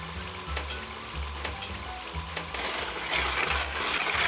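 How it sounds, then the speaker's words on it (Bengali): Masala for chicken shahi roast stirred in a hot pan, a continuous sizzle with repeated scraping strokes of the spoon at a steady rhythm, close and moderately loud, without talk. "আমি ঢাকনাটা একটু খুলে মশলাটা নেড়ে দিচ্ছি।"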